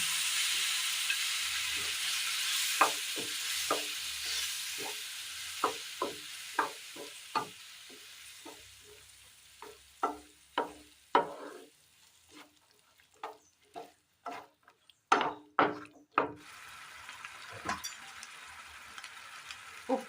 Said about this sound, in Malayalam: ഇതിലേക്ക് വേവിച്ച കടല ഇട്ട് കൊടുക്കാം